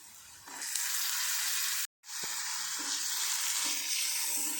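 Tomatoes tipped into onions frying golden brown in a pan, a steady close hiss of sizzling oil that swells as they go in, with a brief break and a soft clink, no talking.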